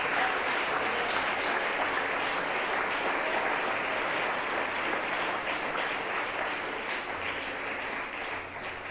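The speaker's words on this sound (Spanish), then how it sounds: "Dele fuerte ese aplauso al rey, por favor." Loud, sustained applause from a church congregation fills the space throughout, dense and steady clapping with no talk above it.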